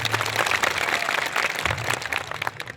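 Dense, steady applause from a crowd at an outdoor political rally in Kawant, filling the whole stretch at an even, loud level with no speech over it.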